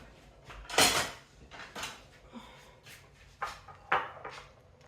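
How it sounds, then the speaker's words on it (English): Spices for a ribs seasoning being mixed together in a bowl, with a few clinks and scrapes of a utensil against the dish, close and moderately loud, separated by brief quiet pauses. "Time to mix our spices up."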